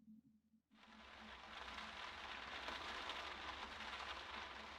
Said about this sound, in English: I do love the sound of the rain.